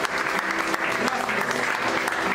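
A church congregation claps hard together in praise of God, a thick, steady wash of palms from many people filling the room at full strength throughout.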